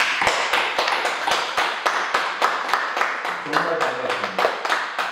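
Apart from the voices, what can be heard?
church congregation giving welcoming applause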